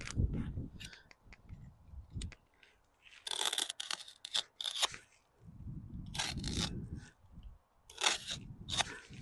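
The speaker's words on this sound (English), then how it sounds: "So we're going to be cutting the roots on the inside of the bag as we peel it back." Tree roots are cut inside a grow bag as the bag is peeled back during repotting, giving close crunching snips and tearing fabric rips in irregular bursts with brief pauses between them.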